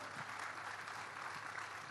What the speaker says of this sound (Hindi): आपकी तालियां हमारे लिए ऑक्सीजन का काम करती हैं